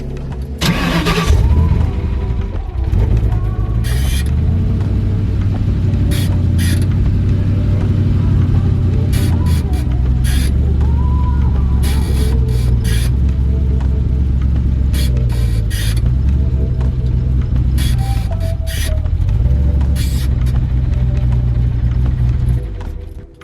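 Irregular clicking chatter from a TR-3650 manual gearbox in a Ford Mustang sounds over the engine's steady low rumble as gears are shifted, close and fairly loud.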